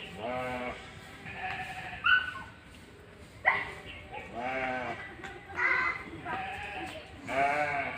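Several goats bleat in repeated harmonic cries, with a few sharper calls and a possible dog bark mixed in, loud and fairly close across the whole stretch with brief pauses between calls.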